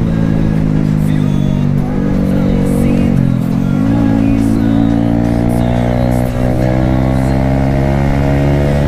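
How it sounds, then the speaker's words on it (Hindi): A Jawa 42 motorcycle engine racing at speed during a street race against a modified R15, a loud, steady droning roar with rising and falling pitch as it accelerates, sustained throughout. "देख रहे भाई क्या भाग रही है इस टाइम पे जावा यार"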